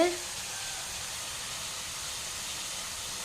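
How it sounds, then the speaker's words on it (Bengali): Desi chicken meat cooking in a pan gives off a steady, even hiss like steam and sizzle, close and unbroken from start to end, with a faint brief tone at the very beginning. "দেখো এদিকে মাংস রান্না হচ্ছে"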